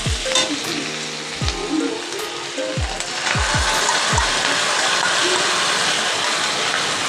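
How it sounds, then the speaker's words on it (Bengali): Sauce hits chili soybean chunks frying in a pan, setting off loud, dense sizzling that swells and holds steady, with scattered clinks and scrapes from stirring early on. "এবার যে সসটা করেছিলাম সেই সসটা দিয়ে দিচ্ছি।"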